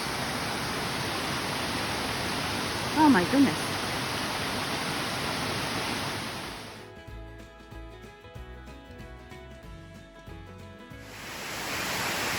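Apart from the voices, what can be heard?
waterfall in the Finger Lakes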